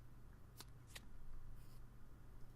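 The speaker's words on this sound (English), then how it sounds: "Shuffle those up." Two quick riffling bursts of cards being shuffled over a steady low hum, with a softer shuffle following.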